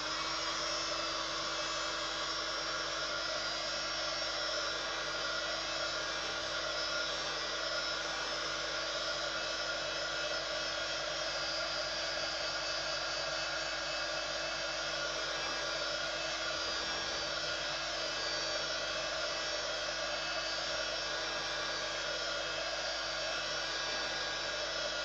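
Hair dryer blowing steadily on freshly applied decorative wisteria paint, a continuous close whirring hiss that holds level throughout with no talking.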